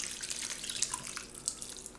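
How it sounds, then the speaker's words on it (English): Liquid chicken broth mixture poured from a bowl over ingredients in a WiFi crockpot, a close splashing, trickling pour with small drips and bursts. "Pour that across the top."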